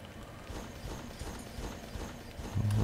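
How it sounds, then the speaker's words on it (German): Heavy monster footsteps in the dungeon game Legend of Grimrock, a steady rhythm of low thudding steps building slightly louder, faint and alone without talk. "Das Fußstapfen wird wieder lauter."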